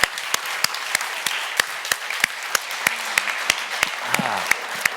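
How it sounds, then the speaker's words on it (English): An audience breaks into applause for cinematographer Christopher Doyle, winner of the Hollywood Reporter Award, with sharp individual claps standing out in a moderately loud, steady round, and a brief murmur of voices near the end. "Please, applause for Christopher Doyle, winner of the Hollywood Reporter Award."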